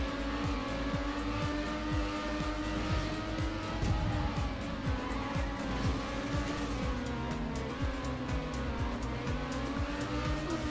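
Racing cars in a video game, heard as a steady, loud engine drone with revving pitch shifts and tire noise that runs through the whole stretch, with no talk over it.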